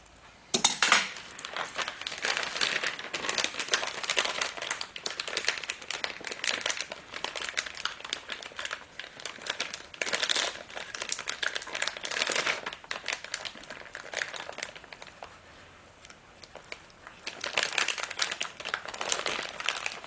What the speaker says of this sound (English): I'm just going to cut the corner of the bag open.